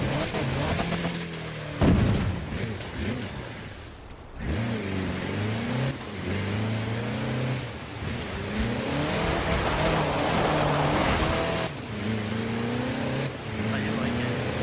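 A stock off-roader in the racing game Forza Horizon 4 drives with a droning engine that rises and falls through repeated revs and gear changes, steady and fairly loud throughout.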